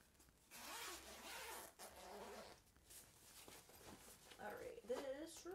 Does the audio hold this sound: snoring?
no